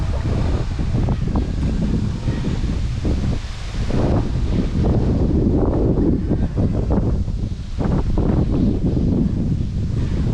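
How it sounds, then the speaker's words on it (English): Strong wind roars and buffets the microphone outdoors by the water while a 2-meter RC model trawler is docked. Loud, steady gusting rushes throughout, with no voices. "So you got very strong wind."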